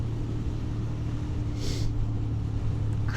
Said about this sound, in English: my Benelli TNT 125 that I'm riding